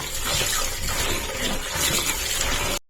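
Farm spinach greens being washed in water, a steady broadband splashing and sloshing that runs loud and close for nearly three seconds before stopping abruptly.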